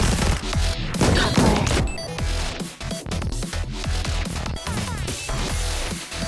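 Dense gunfire and sniper shots in the mobile game Blue Archive, a loud continuous barrage of rapid shots, crashes and booms layered over game music with no talk.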